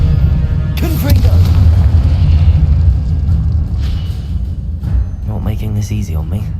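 Loud rumbling booms from Confringo blasting spells go off in the Hogwarts Legacy video game, repeating under a player's spoken spell names.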